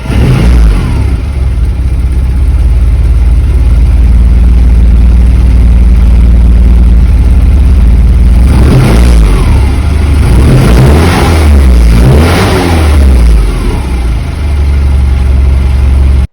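An A-series car engine runs loud and steady close by, with a deep idle rumble and several sharp revs rising and falling near the middle of the run.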